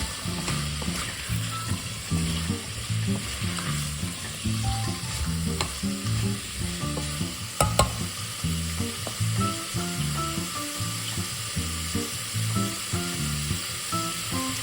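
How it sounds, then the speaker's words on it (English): Potato, carrots and celery sautéing in a soup pot for cabbage soup, a steady close sizzle running throughout with repeated scraping stirs in a regular rhythm. "saute my heavy vegetables in it first and then add the other vegetables"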